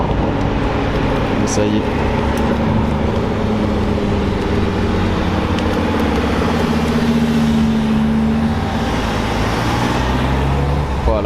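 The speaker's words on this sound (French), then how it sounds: "Ça arrive, le convoi de reconnaissance." Reconnaissance convoy of cars driving past on a mountain road at Chamrousse, a steady loud rumble of engines and road noise running throughout, with a voice talking over it.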